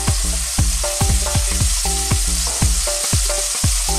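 Beef tenderloin steaks seasoned with salt and pepper fry in olive oil in a pan, giving a loud, steady sizzle throughout, with no talking.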